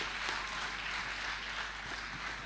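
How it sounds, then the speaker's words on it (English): Applause from the audience at a talk on preventing sexual violence on Nigerian university campuses, a soft, even patter of many hands clapping, distant and faint, holding steady throughout. "Please, a round of applause for him."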